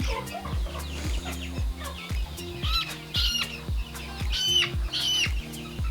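Easter Egger chicken squawking and clucking loudly up close, repeated harsh calls with wing flapping over a low rumbling background.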